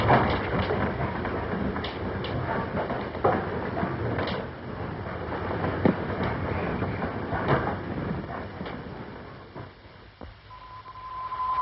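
A train rumbles steadily with rattling clatter and occasional clanks, a continuous mechanical roar that eases near the end, where a faint tone appears.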